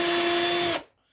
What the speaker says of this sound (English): I'm going to use a 1/8 inch drill bit to pre-drill the holes on this side